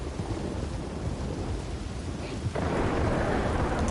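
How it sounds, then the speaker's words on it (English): A video-game thunderstorm with steady heavy rain and a low rumbling roar that suddenly grows louder partway through, dense and continuous with no talk. "Maybe the storm will be kind of through by the time we get there."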